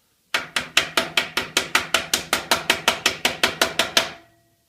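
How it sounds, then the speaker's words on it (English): A screwdriver taps the plastic feet of a SKIL 3310 table saw into place: about seventeen sharp, evenly spaced knocks in a steady quick rhythm, close and clear, with no voices. "And you may have to tap them in place. I've just got a screwdriver."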